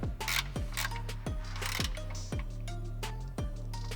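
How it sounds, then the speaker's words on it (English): A hand ratchet with a 10 mm socket tightens bolts while a Cybertruck front bumper is installed, giving a rapid clicking ratchet run, then seven even, swinging strokes with metallic rattles, close and clear. "we can tighten it up with our 10 millimeter socket"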